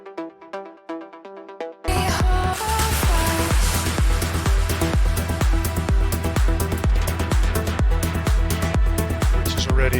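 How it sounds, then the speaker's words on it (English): Plucky synth melodies from a progressive trance track start alone, then a loud full mix crashes in with jet sweep effects, pounding kick and dense layered synths driving steadily to the end. "if we play it together with also a jet effects I added, it sounds like this"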